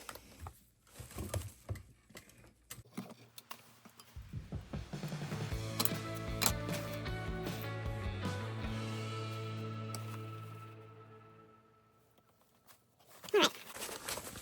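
A sewing machine stitches around a small Lucy mini tote at a half-inch seam, back-stitching over the webbing, running steadily for several seconds after some handling noise, then stopping before brief rustling at the end.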